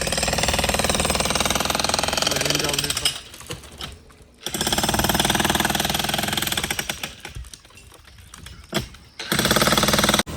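Tractor engine with trolley running while the trolley is unloaded, a loud rattling diesel chug that dips and surges, fading briefly twice before roaring back close by.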